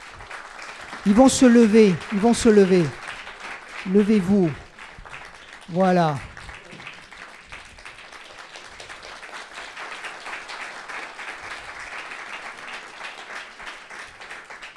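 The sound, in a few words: audience applause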